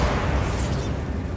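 A Bombarda blasting spell detonates in the Hogwarts Legacy video game, a dense, loud roaring burst with heavy low rumble that fills the whole short moment without a break.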